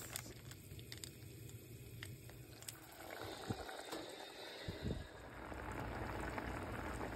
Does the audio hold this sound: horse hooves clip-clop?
no